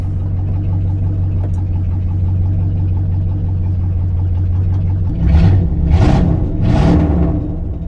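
A Lincoln Continental engine with a valve tick idles in a steady close-up hum, then revs three times in quick succession before settling back.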